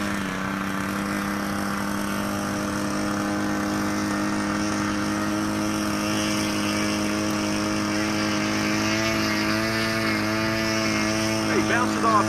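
A model airplane engine on a Pilatus PC-6 Porter drones steadily with a buzzing, harmonic whine, holding a constant pitch before revving slightly near the end; voices are faint in the background.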